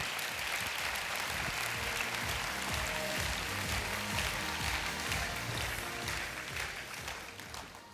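Audience applause at a 2015 business conference in Frankfurt, a dense, steady wash of many hands clapping that holds strong throughout and eases slightly near the end, with no voices standing out.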